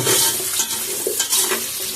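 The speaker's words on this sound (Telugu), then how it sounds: "ఇవన్నీ వేసుకొని ఇవన్నీ బాగా వేగాలి నూనెలోనే మనం మగ్గించుకోవాలి వీటిని" Carrot, potato, onion and green chillies frying in oil for a vegetable biryani, a steady loud sizzle with bursts of stirring scrapes throughout, no voices.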